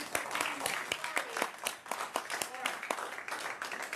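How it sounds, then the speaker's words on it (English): Audience applause in a live comedy and music show: brisk, dense clapping from a crowd that runs steadily for about four seconds. "Give it a round of applause."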